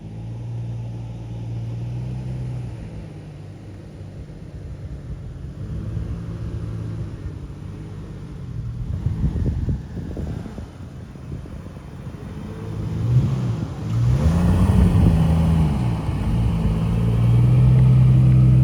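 A Jeep in two-wheel drive crawls off-road through an off-camber washout, a low engine rumble that swells with bursts of revving and scraping toward the end and grows louder and closer.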